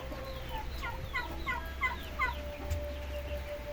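Turkeys gobble in a rapid rippling chorus over a low steady hum, several birds close by calling in quick overlapping bursts before fading to a quiet stretch.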